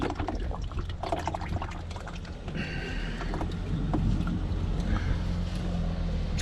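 Transmission oil drains from the pan of a Mercedes 722.9 gearbox, a continuous close splashing and trickling pour that grows slightly fuller midway, with no voices.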